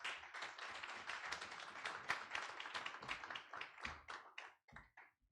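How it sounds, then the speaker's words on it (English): Audience applause greeting the president of an ADR institute as he takes the stage for opening remarks at a formal event, with a dense burst of hand clapping that thins and fades out after about five seconds. "Please give him a round of applause."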